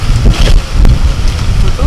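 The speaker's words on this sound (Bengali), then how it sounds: "হাওয়া মানে পুরো ঝড় বইছে" Strong storm wind blows hard outdoors, loud rushing gusts buffeting the microphone throughout, with a person talking underneath.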